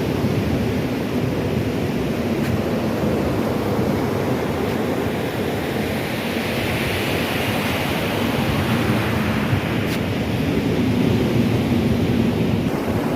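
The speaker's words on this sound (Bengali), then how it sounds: "দীঘার সমুদ্র সৈকত, আমার পেছনে সমুদ্র।" Sea waves roll onto the beach at Digha, a steady, loud wash of surf that fills the whole stretch, with a broad roar and a gentle swell in the middle, no voices.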